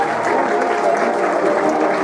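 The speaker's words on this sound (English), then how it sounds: "Give them a round of applause, ladies and gentlemen." Dense, sustained applause from an audience at the Manchester Rose of Tralee finale, cheering the ladies lined up on stage; loud, close and steady for the whole stretch with no voices breaking through.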